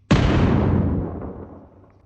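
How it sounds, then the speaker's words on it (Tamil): A bomb explosion blasts a door open: one sudden, loud, close boom that rumbles and slowly decays over about two seconds. "டக்குன்னு ஒரு பாம் வெடிச்சு அந்த கதவே வெடிச்சிருது"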